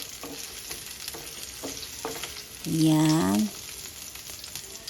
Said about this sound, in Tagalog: maglagay tayo ng konting mantika. Lagay tayo ng sibuyas. Halu-haluin lang muna natin.